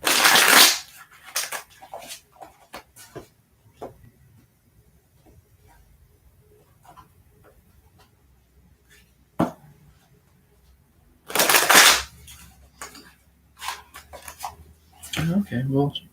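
Bursts of tarot cards being shuffled, crisp riffling at the start and again later, with quiet speech and small taps in between.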